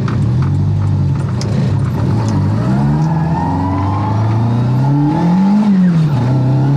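A Ford Escort engine drones loudly and steadily, its pitch climbing and falling as the revs rise and ease off, heard from close by.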